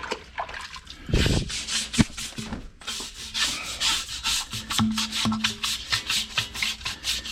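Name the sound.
wiping brake dust off a wheel rim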